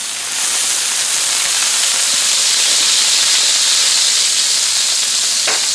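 Steady, loud hissing and sizzling of water steaming on a hot Blackstone griddle cooking Brussels sprouts and bacon, continuous from start to finish.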